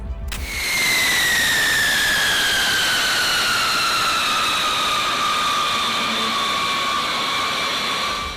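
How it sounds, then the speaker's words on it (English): A Boeing B-52 bomber roars past loudly, a steady jet-engine whine with a falling pitch that holds continuously throughout with no talk. "The B-52 bomber was made by Boeing and has been upgraded and updated through time."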